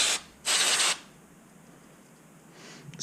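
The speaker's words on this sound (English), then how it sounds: "Just gonna spray these connectors out." Aerosol cleaner spraying onto car electrical connectors on a Mazdaspeed 3, two close, loud hissing bursts, a short one then a longer one, followed by quiet handling noise and a faint final spritz.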